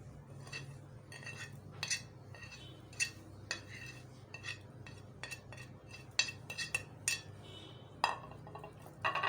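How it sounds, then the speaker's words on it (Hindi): Chicken in a bowl being coated with spices and garlic-ginger paste, with soft scattered clinks and scrapes of a spoon against the dish over a low steady hum. "अब ये तमाम चीज़ें मैं चिकन में ऐड कर दूंगी, तमाम मसाले"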